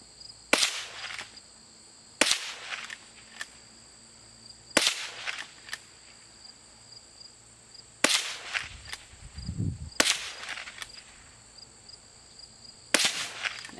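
Gunshots ring out during family target shooting outdoors, five or six sharp cracks spaced a couple of seconds apart, fairly near, over a quiet background with a faint insect hum.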